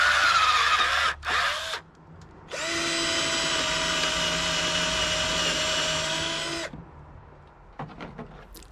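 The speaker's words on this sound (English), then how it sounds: "I decided to drill holes alongside them to free them" A power drill bores holes into deck boards, whirring in a short burst, then drilling for about four seconds with a steady, high whine before stopping; faint clicks follow.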